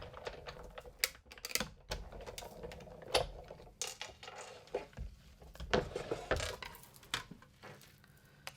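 Sizzix die-cutting machine pressing cardstock through a die, giving a run of irregular clicks, clacks and mechanical knocks, fairly close and moderately loud, with no talking.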